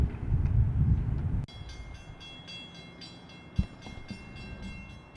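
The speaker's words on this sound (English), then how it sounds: "Got our Illinois Zephyr Amtrak train coming through now." An Illinois Zephyr Amtrak passenger train rolls through Highlands station, a loud whoosh of passing cars with high metallic ringing and rhythmic wheel clicks and one sharp clunk, after a low rumble of approach.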